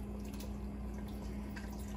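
Meat juice trickles and drips into a pot of Texas red chili, a faint, close liquid patter over a steady low hum, with no talking.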